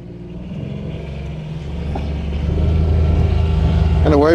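Inside a moving John Deere Gator XUV 865M diesel utility vehicle with a CVT, a steady drone of transmission whine and tyre roar builds gradually as it picks up speed, with a voice briefly heard near the end.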